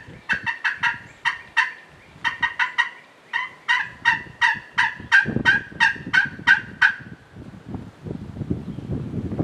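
A wild turkey on Kentucky public land gobbles in rapid repeated bursts, loud and fairly close, several rattling calls in a row, followed by rustling and wind noise.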